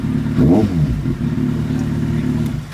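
A Kawasaki Z800 motorcycle engine fires up with a brief rising rev, then settles into a loud, steady idle rumble close by, with no talk.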